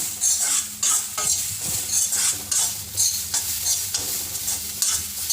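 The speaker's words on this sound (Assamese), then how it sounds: "এইখিনি মই অলপ সময় ভালকৈ ভাজি ল'ম কালাৰটো চেঞ্জ হোৱালৈকে" Carrots being stir-fried in a pan, with rhythmic scraping strokes of a utensil against the pan over a continuous sizzle, close and clear, with no talking.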